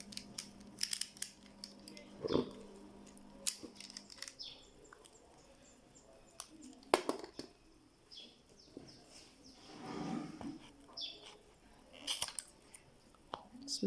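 Scissors snip through handmade women's office sandal material during lasting, a few sharp cuts scattered among quiet rustling and handling noises, fairly close but low in level.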